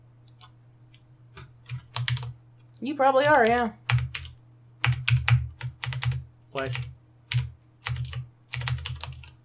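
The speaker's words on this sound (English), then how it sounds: "You're doing so well at typing today." Computer keyboard typing in bursts of rapid clicks and clacks, recurring across the stretch between voices, with people talking and a gliding game sound partway through.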